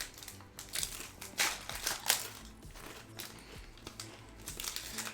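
Foil trading card packs are torn open and crumpled up close, a steady crackling rustle with a few louder rips, quiet and without talk.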